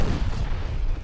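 Heavy naval gunfire hits in the warship strategy game Ultimate Admiral Dreadnoughts, a dense, continuous rumble of booming shell impacts, loud and sustained, with no voices.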